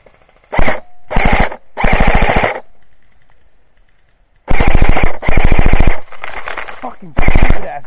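Airsoft guns firing in rapid automatic bursts during an outdoor rainy-day airsoft game, loud and close, with several separate strings of shots broken by pauses.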